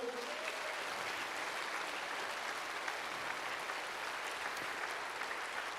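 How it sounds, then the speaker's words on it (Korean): Steady, dense applause from a large audience in a church fills the whole stretch without letting up, honoring Korean War veterans at a service. "우리 참전용사 여러분들께도 여러분 박수 한번 보내주시고요"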